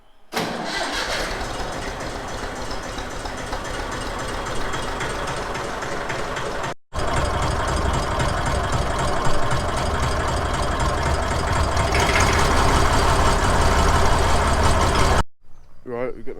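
A Massey Ferguson 35X tractor engine cranks, catches and settles into a loud, steady chugging idle close by, with a short cutout partway through and voices talking over it.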